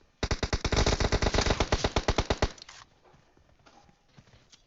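Rapid automatic gunfire in PUBG, a burst of about twenty sharp shots in quick rhythm, loud and close, which then stops and leaves faint background noise.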